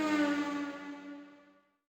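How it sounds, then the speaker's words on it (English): Ambulance siren from the Sega Saturn game Tryrush Deppy, a synthesized wailing tone with layered harmonics that holds briefly and then fades away to silence within two seconds. "I like the pallet cycling on the ambulance's sirens."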